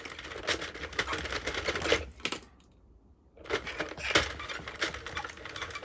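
A Sentro knitting machine being cranked, giving a steady loud clattering of rapid plastic clicks that stops briefly for about a second, then resumes.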